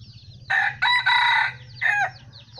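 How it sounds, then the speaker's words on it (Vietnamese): A rooster crows once nearby, a loud multi-part call lasting about two seconds, over a low steady background hum. "Đây là gà mồi bình thường nhá, gà mắm vàng."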